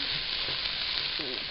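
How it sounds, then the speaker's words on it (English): Onions going into a hot gumbo pot, giving a low, steady frying hiss across a brief moment with faint stirring movement and no talk. "now I'm going to add the onions to it"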